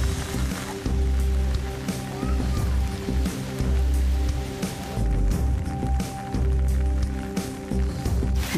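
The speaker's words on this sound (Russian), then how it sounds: "Идет дождь, но ничего." Rain falls steadily in Gorendu village, Papua New Guinea, a continuous wash of patter heard close, with soft irregular thumps mixed in.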